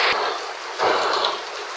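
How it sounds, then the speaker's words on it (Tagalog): Rain pouring down in a steady wash of noise, with a brief thump and a surge of heavier splashing partway through. "Lakas mo ng ulan, mga kapams"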